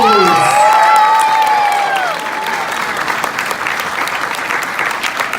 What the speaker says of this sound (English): let's hear it for finalist Thanos